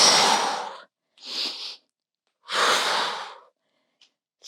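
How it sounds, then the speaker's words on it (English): Heavy, forceful exercise breaths come in three long bursts of audible inhales and exhales, close and loud, during a 20-minute core workout. "Breathe. Inhale on the way out. Exhale on the way in."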